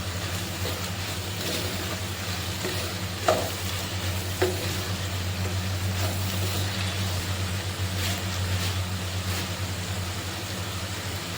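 Crab roast sizzles and fries steadily in a pan while being stirred, a dense continuous crackle with a couple of brief scraping knocks, loud and close, no talking.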